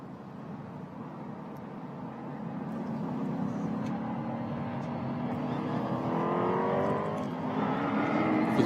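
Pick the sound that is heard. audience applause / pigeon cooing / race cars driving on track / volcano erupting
race cars driving on track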